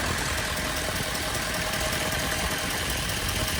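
A car engine runs with the AC compressor clutch face dragging on its pulley, giving a constant loud droning mechanical whir with a gritty rubbing undertone, close and steady throughout.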